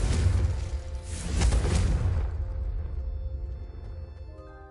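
A Confringo explosive spell blast in Hogwarts Legacy: a loud, rumbling boom that swells over about two seconds, then fades into a quiet tonal tail, with no talking.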